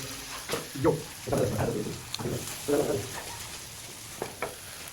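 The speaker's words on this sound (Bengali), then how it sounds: "এদিকে কড়ার মধ্যে আলু ডালা হচ্ছে" Potatoes fry in a wok at a fair stall, a soft sizzling hiss broken by bursts of spattering and stirring, heard close with faint crowd noise behind.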